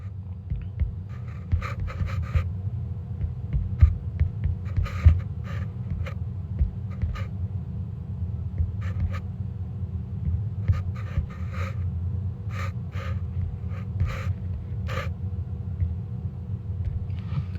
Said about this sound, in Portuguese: Deixa eu escrever ele aqui para você.